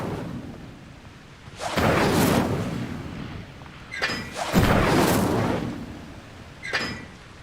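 Incendio fire spell in Hogwarts Legacy, cast repeatedly as loud roaring bursts of flame that swell and fade, each lasting about a second or more, with a crackling tail and a smaller flare at the end.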